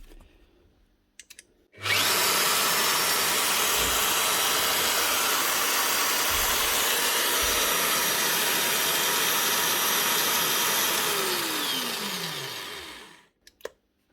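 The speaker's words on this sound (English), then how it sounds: "One Roatabroach low profile magnetic drill. Up and running again." A repaired Rotabroach Element 40 low profile magnetic drill with three new bearings spins up abruptly, runs at a steady loud whine for about eleven seconds, then winds down smoothly to a stop, with a few faint knocks before it starts.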